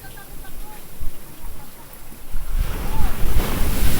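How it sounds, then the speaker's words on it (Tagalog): Strong ocean waves surge and break nearby from a boat at sea, with steady wind noise across the microphone; the roar grows louder toward the end. "lakas ng alon."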